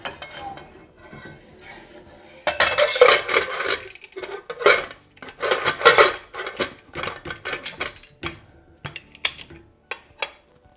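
Cumin dal with turmeric, salt and boiling water being stirred in a pressure cooker, giving a run of close, uneven scraping and clinking of a utensil against the metal pot after a quieter start, with no talk.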